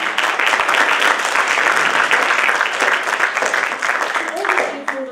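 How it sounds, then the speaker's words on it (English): A road safety debate competition audience applauds in a loud, steady burst of crowd clapping that carries through without a break, fading slightly at the end. "I want you guys to give a big round of applause to all our stakeholders"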